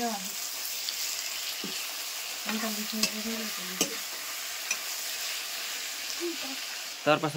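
Tomatoes sizzle and fry in a pan for a paneer gravy, with a steady hiss throughout and several scraping stirs of a spoon, the loudest near the end.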